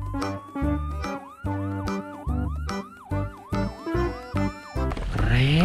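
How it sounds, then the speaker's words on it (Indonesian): A toy ambulance blares a loud electronic siren, a repeating warbling wail in rapid cycles with a steady electronic tone underneath, close and continuous, ending in a short burst of garbled sound. "Wow, ada mobil ambulan."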